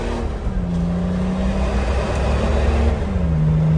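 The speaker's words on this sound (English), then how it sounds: "That's all exhaust." Diesel exhaust of a Mercedes G-Wagon W463 G300 with the OM606 engine after an ECU upgrade, revving close by in a loud, rumbling drone with pitch rising and falling between blips, no talk over it.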